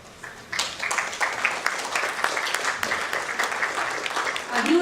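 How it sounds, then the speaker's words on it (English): An audience at an award ceremony breaks into applause that swells in quickly and continues as a steady, moderately distant patter of many hands. "A huge round of applause for them."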